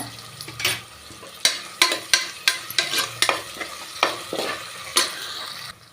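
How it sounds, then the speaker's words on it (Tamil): Onions frying with ginger-garlic paste for coconut rice, stirred in a pan: a steady close sizzle punctuated by a dozen sharp scraping strokes of a spoon at irregular intervals, no voices. "வெங்காயம் சேர்த்த உடனே கொஞ்சமாக இஞ்சி பூண்டு பேஸ்ட்டு சேர்த்துக்கிறேங்க"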